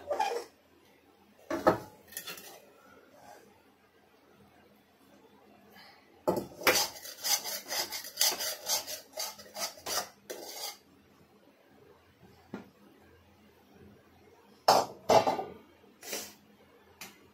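Patwadi mixture poured into a greased pan and spread out, heard as scattered scraping and metallic clinks of utensil against pan in short bursts separated by quiet stretches.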